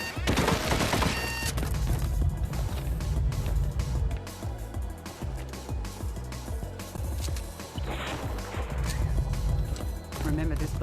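Rapid bursts of gunfire fill the scene as enemies are shot in the VR game Espire 1, loud and continuous with crashes and impacts layered over game music.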